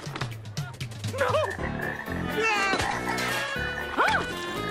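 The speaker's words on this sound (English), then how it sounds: "We have some frogs here for you. Lots of frogs." Cartoon frogs croak loudly in a rapid run of warbling, rising calls, overlapping with excited cartoon voices and a clattering crash partway through.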